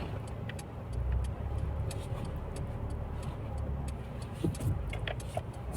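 A Mercedes-Benz GLB 200 eases into a tight home garage. A low, steady engine hum runs throughout, with faint intermittent ticking and clicking on top, and no one talks.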